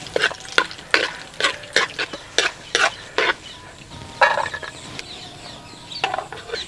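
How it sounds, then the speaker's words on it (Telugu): Cashews frying in ghee and oil for chicken haleem, with a low sizzle beneath a run of quick, sharp spoon scrapes and taps against the pan, close and moderately loud. "ఇప్పుడు 2 చెంచాలు నెయ్యి, 2 చెంచాలు నూనె వేసుకొని జీడిపప్పు దోరగా వేయించుకొని పక్కన పెట్టుకుందాం."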